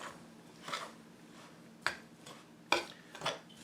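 Diced pimento-stuffed olives being mixed into bread dough made with sour milk, heard as a few soft, separate squishing and clinking stirs spaced through a quiet stretch, with no talking.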